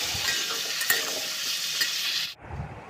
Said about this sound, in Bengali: তো চলো ফোড়নে দিয়ে দিলাম প্রথমে 5 ফোড়ন।